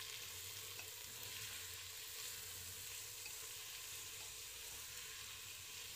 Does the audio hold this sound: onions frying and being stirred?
yes